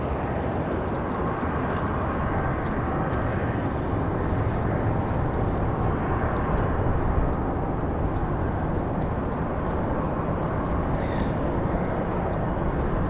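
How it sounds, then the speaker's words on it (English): An Endeavor CRJ regional jet departs at Raleigh-Durham airport bound for Detroit, a steady, loud broadband engine roar that holds throughout with no one speaking. "Endeavor 5365 off to Detroit, Michigan. That CRJ."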